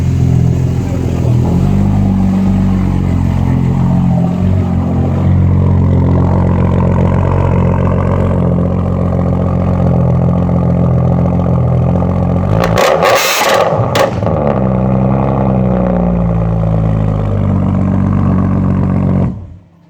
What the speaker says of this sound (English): That's pretty much what a straight locked barrel would sound like.